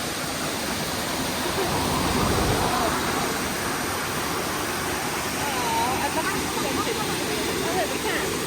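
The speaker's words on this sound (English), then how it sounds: "First waterfall of the trip." Steady, dense roar of rushing water from a waterfall, constant and full throughout with no clear talk over it.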